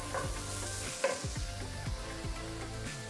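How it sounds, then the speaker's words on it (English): Cauliflower rice frying in a pan while being stirred, a steady sizzle with scraping stirs, close and fairly loud, with faint background music underneath. "And this cauliflower rice cooks rather quickly."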